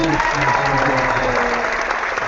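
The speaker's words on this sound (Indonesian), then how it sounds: "Ada tepuk tangannya seru." Audience applause at a book talk, a dense, steady clapping from a crowd sustained throughout at full volume, with a voice speaking faintly underneath.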